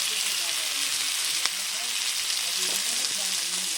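Chili powder frying with pumpkin greens and their stalks in a pan, a dense close sizzle with light stirring scrapes and small crackles.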